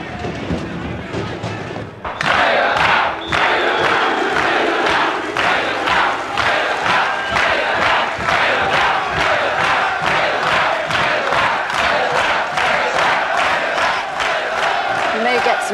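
A large football stadium crowd roars and murmurs continuously, with a rapid run of wooden seats tipping up in thumping clatters throughout, loud and dense.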